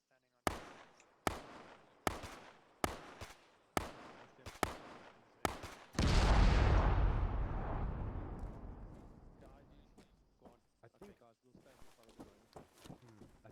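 In a military video game, a burst of evenly spaced sharp gunshots leads into a loud IED detonation whose heavy rumble fades slowly, followed by scattered quieter shots in the distance.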